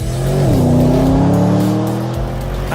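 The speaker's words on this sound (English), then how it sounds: "I'm sitting in the brand new Porsche Panamera Turbo S, braking into the first chicane on the start-finish straight" A Porsche Panamera Turbo S brakes into a chicane on a racetrack in Leipzig, its engine note dropping then holding a steady, loud drone close up, with no talking.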